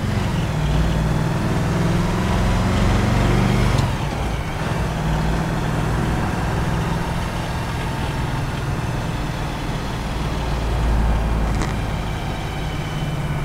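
A 1967 Chevrolet Camaro's engine idles slightly high with a deep, steady rumble at close range, a low throaty drone and slight fluctuations in level throughout.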